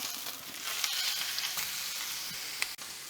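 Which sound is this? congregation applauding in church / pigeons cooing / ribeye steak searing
ribeye steak searing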